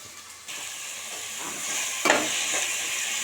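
Oil sizzles steadily in a pan while vegetables are stirred, with a scraping stir sound and a sharper burst of frying partway through.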